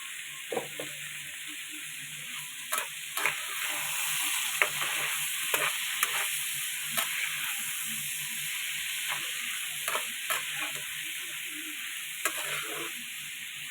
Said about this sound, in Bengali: হলুদ এবার কিছুক্ষণের জন্য আমি একটু কষিয়ে নেব